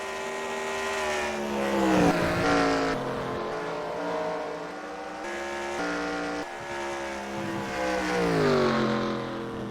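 Race cars roaring around the Chicagoland oval in an eNASCAR racing video game, several engines layered with rising and falling revs as the cars pass, continuous and fairly loud throughout.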